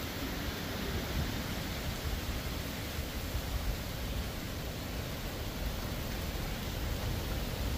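Wind-driven rain sweeping sideways across an open pasture during a thunderstorm, a steady dense hiss of wind and falling water that holds evenly loud for several seconds, with no voices.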